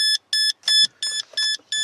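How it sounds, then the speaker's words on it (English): An aftermarket lights-on warning beeper in a Toyota Tarago (Previa, Estima TCR10) van sounds six loud, shrill electronic beeps in a steady, even rhythm, close up, with no talking. "That beeping is this little thing that I added"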